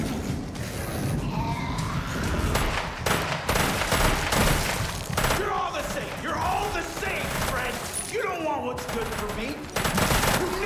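Gunfire from a shotgun in the zombie shooter Arizona Sunshine 2: loud repeated blasts with mechanical pump and reload clatter, mixed with other game noise and a speaking voice.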